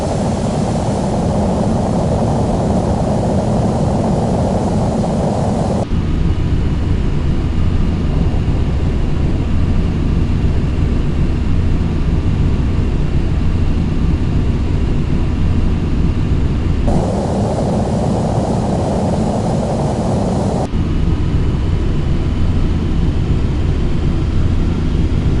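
Boeing 737 jet engines climb after takeoff in Microsoft Flight Simulator. A loud, continuous broadband roar fills the whole stretch, and its tone shifts noticeably twice as the thrust changes.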